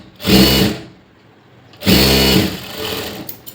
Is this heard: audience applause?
no